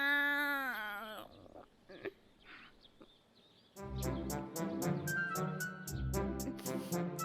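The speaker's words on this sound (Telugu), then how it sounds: "Meow, meow, meow." A cartoon cat in a Telugu animated show mews in a high, rising cry, then after a pause lively background music with percussion takes over.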